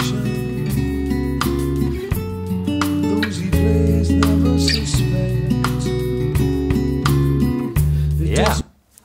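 Electric guitar chords from a riff with a bass line underneath, played together in a steady rhythmic pattern of sustained low notes and chord stabs, close and clear, ending with a brief rustle.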